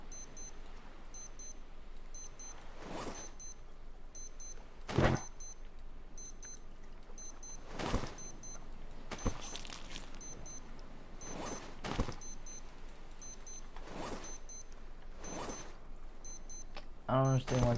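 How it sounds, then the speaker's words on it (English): Bright electronic beeps from an in-game alert in Detroit: Become Human repeat in short, evenly spaced bursts, with louder sharp clicks and thumps breaking in between, while the game keeps going underneath. "I don't understand why it's beeping at me."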